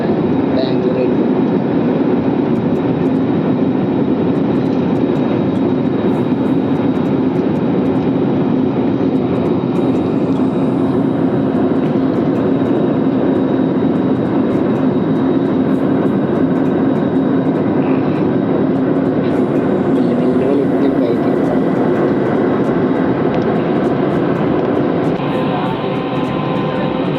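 Airplane in flight near Bengaluru airport, heard from inside the cabin as a loud, constant engine roar and rushing air that stays even throughout.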